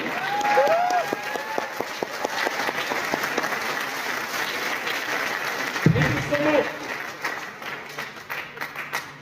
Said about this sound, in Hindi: ताली बजाओ तो मजबूती से, मजबूरी में नहीं।